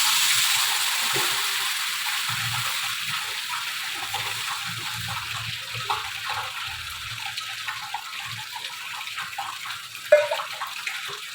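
Water gushes steadily into a pan of potato and pumpkin curry, a continuous rushing pour with faint clinks, ending with a brief knock.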